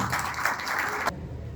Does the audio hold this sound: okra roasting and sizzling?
no